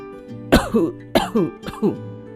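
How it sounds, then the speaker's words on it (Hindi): A woman coughs three times in quick succession, each a harsh, throaty burst with a short pause between, close and clear. "वे दोबारा खांसी।"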